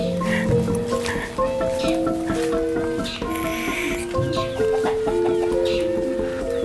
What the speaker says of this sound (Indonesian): Banyak ayam